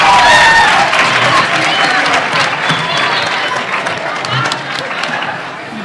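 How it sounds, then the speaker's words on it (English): A high school assembly crowd claps and cheers loudly in a large room, a dense wash of applause that fades slightly toward the end, with scattered voices mixed in. "give yourself a round of applause."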